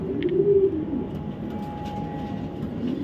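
Racer pigeons cooing inside a loft, soft low throaty coos repeating over a steady background hum with a faint tonal whine partway through.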